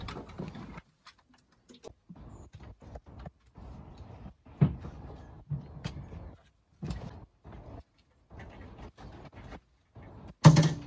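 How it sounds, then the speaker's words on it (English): Narrowboat doors are handled and put back in place, giving a series of short knocks, clunks and scrapes separated by quiet gaps, with a sharp bang near the end. "Put the doors back."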